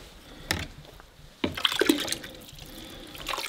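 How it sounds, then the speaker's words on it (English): Water from a bucket dumped into a non-flushing toilet at a high-altitude Everest base camp trek lodge, heard as a short splash followed by gurgling and trickling in a small room. "So you get some water and dump it down"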